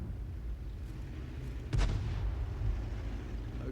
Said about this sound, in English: that was an armor-piercing round that came from our fellow Arty in this game, who was an M44